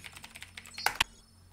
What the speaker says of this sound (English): if we type sector.forest